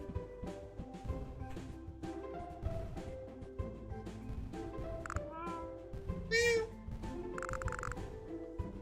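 A cat in the video game Momodora: Moonlit Farewell gives a single short rising meow partway through, heard over layered game music and effects at a moderate level.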